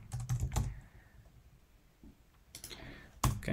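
Fingers type a username on a computer keyboard, two quick bursts of crisp key clicks separated by a quiet pause, then a final sharp keystroke.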